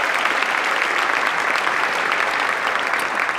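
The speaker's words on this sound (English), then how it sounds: "Give our Council President a huge round of applause." A large audience applauds a city council president at a mayoral inauguration in Philadelphia, a dense, steady roar of clapping that holds evenly loud throughout with no speech over it.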